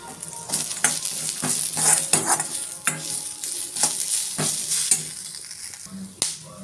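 Cashews and watermelon seeds roasting in a pan for butter chicken, with rhythmic scraping and stirring strokes over a light sizzle, close up and with no one talking.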